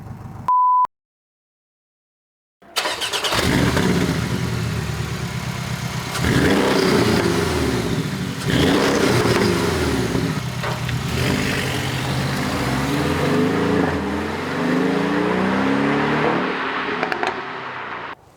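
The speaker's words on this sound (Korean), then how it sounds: "이걸로 인해서 배기음 자체가 좀 많이 중저음이 돼서" After a short beep and a pause, a Porsche 718 Boxster GTS engine idles and revs with a deep, loud exhaust rumble that rises and falls several times.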